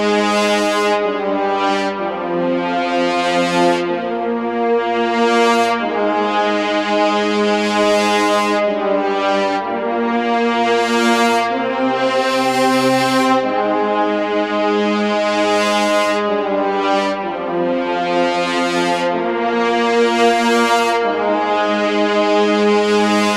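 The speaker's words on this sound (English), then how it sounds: "Let's go ahead and take a listen to the brass section only." Isolated brass section from epic cinematic trailer music, mixed with a large reverb: loud, sustained horn chords swell and shift in long, overlapping phrases, building a dense, continuous and powerful texture.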